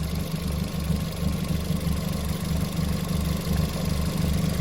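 A Ford Fiesta ST idling with a misfire, a steady low engine drone with a faint uneven pulse, close and continuous throughout.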